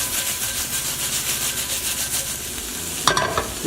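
Ribeye steak chunks frying in olive oil in a pan, tossed and stirred with a steady scraping sizzle, rhythmic rubbing strokes and a sharper clatter near the end, no voices.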